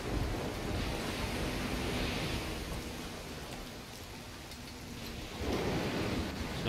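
Steady heavy rain pours in a stormy coastal setting in the Risen 2 video game, a dense continuous hiss with low rumbling thunder swelling near the end, no voices.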